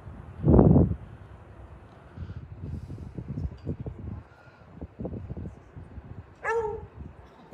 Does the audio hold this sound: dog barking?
yes